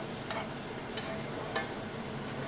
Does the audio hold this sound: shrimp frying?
yes